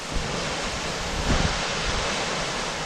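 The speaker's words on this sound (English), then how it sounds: "waterfall coming out of the mountain" A mountain waterfall on Mt. Hood's Timberline Trail gives a continuous broadband rush of falling water, steady and fairly distant, with some wind buffeting on the microphone and no voices.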